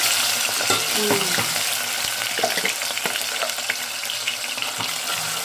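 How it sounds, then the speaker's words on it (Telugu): Masala paste and curry leaves sizzle and fry steadily in a pan for fish pulusu, a dense continuous crackle with occasional stirring scrapes, close and fairly loud throughout. "ఇది సిమ్లో పెట్టుకుని బాగా ఫ్రై చేసుకోవాలండి"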